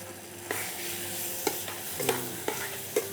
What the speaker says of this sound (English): Mix the masala